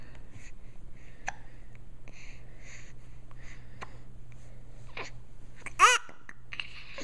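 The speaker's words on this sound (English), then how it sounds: "I come with hiccups." A person hiccups a few times, with sharp isolated gulps spaced seconds apart and the loudest one near the end, over a quiet low hum.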